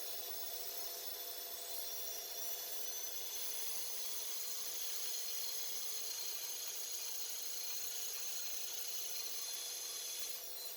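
Bandsaw cutting wood for a dovetailed drawer, a steady high-pitched blade whine and rasping cut running continuously and close, with no talking.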